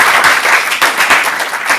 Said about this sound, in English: give them all a round of applause before we start this program.